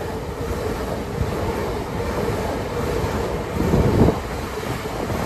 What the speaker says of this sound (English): Passing through now is LNER service